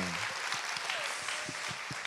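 A studio audience on a talk show claps continuously, a close, even wash of applause with a few low thumps running through it.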